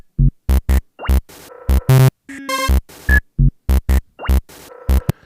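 Electronic beat layered with short melodic samples, where punchy low hits alternate with bright tonal blips, a rising zip and a brief chord stab in a busy, looping pattern, loud and upfront with no talking.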